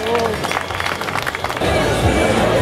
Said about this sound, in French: vous pouvez applaudir les vaches